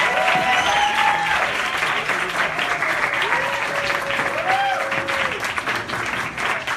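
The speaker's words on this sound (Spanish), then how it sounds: "Despedimos a nuestro invitado con un fuerte aplauso." Audience applause at a lecture sends off a departing guest, a steady wash of clapping with faint tonal whistles or feedback lines running over it throughout.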